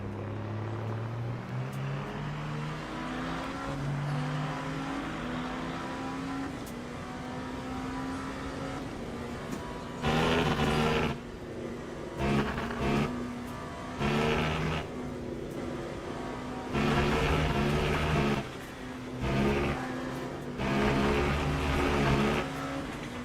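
Race cars in the Le Mans Ultimate racing simulator, a steady engine drone from the driven car with repeated loud roaring passes and revving as other cars close in and sweep by.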